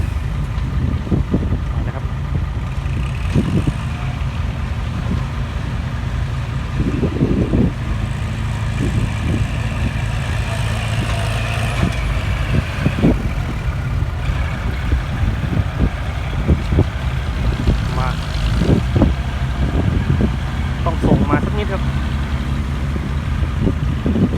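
A tractor and dump trucks grading a road at a pig farm construction site: heavy diesel engines rumble and idle continuously, with intermittent revving, clanks and knocks from the machinery nearby.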